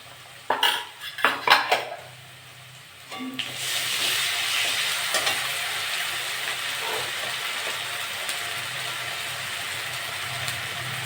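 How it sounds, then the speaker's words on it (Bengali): A spoon clinks against a pan a few times as ginger-garlic paste goes onto browned onions, then a broad, steady sizzle takes over and carries on evenly while the mix cooks. "আদা রসুন বাটা 1 চামচি দিয়ে দেবো।"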